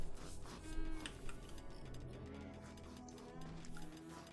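Cows in the Rimworld video game give low moos, a few faint overlapping calls over a busy, clicking mechanical background and soft music.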